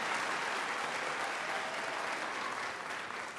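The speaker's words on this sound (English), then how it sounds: "Please join me in giving a clap to our family, friends, everyone who support us." Graduates and guests at a college graduation ceremony give a continuous round of applause, a dense, even patter of many hands clapping at moderate volume for several seconds without talk.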